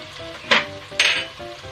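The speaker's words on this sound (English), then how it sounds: "Add garlic paste into the fried onions," Garlic paste frying with fried onions in a pot, heard as two short, bright sizzling bursts close up over a low background of pan noise.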